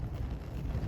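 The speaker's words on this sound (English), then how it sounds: "It's just really windy today," Gusts of outdoor wind buffet the microphone in a steady low rumble beside a guitar being set alight with acetone, continuous and fairly quiet with no voices.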